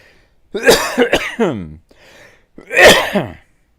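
A man coughs straight into a close microphone during a live baseball play-by-play broadcast, giving a loud burst of several harsh coughs, then a pause and one more forceful cough.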